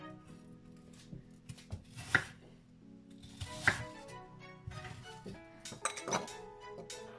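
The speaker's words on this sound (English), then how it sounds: "I'm going to cut them in cubes" Apples being cut into cubes with a knife on a board, with a few distinct knocks and clinks over a soft steady background, close by and without talking.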